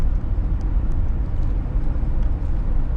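A car drives along with a continuous, rumbling low-frequency road and engine noise heard from inside the cabin, steady and fairly loud with no talking.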